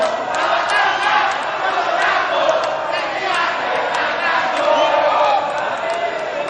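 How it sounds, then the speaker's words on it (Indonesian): Supporters at a gubernatorial candidates' debate clap and cheer together, a dense, continuous crowd roar with shouts rising and falling over steady applause. "silakan kedua pendukung dari masing-masing paslon, silakan memberikan tepuk tangan"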